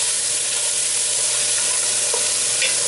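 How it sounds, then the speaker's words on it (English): Celery and other vegetables for lentil soup sauté in a pan with a steady, loud hissing sizzle and faint scraping stirs throughout, no voices. "Mix this all up. Saute it nicely."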